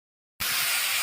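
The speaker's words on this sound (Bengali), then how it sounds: "কাঁচকলা ভেজে নিচ্ছি" Raw banana slices frying in hot oil give a loud, steady sizzle that starts abruptly after a short silence and holds evenly, with no voices.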